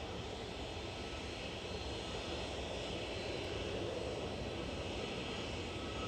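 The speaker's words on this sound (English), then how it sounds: "Got a Jet2 A321 taxiing out" A Jet2 Airbus A321 taxis out at Manchester Airport, its jet engines giving a continuous, even roar and hiss at moderate distance with no voices over it.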